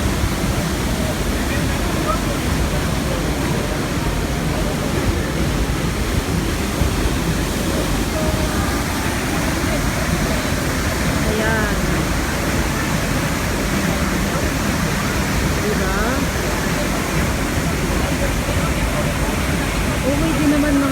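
Powerful waterfall in a forested valley roars loudly and continuously at close range, with voices talking faintly under the constant rush.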